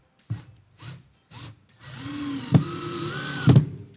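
Three short whirs of a power drill driving screws into a jewellery rack, then a longer run that spins up and bogs down, with two sharp clacks as the screw seats.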